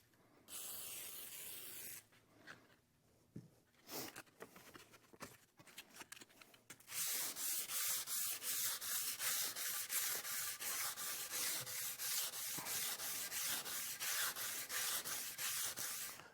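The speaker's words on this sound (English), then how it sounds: "I'm going to move on to a cork sanding block, and then I'm going to use 400 grit wet dry paper." A cork sanding block with 400 grit wet-dry paper, lubricated with WD-40, is rubbed over a cast iron table saw top. A short spray and a few scattered rubs come first, then long, steady, rhythmic sanding strokes close up.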